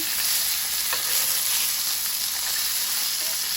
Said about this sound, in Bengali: মাছটা এদিকে ভাজা হয়ে যাচ্ছে